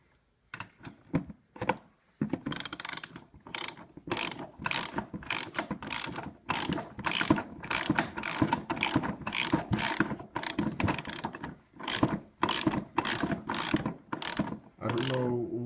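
Fast, loud ratchet clicks come in repeated bursts with short pauses as bolts are tightened on an Arctic Cat snowmobile track.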